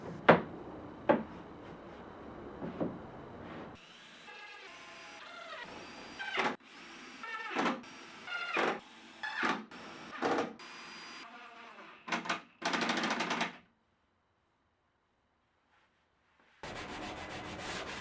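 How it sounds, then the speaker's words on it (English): A power screwdriver drives screws into the rear panel of a wooden drawer for a workbench, with several short whirring bursts that rise and stop in a steady sequence. A pause of silence follows, then a final stretch of noise. "Then I screw the rear in place without any glue."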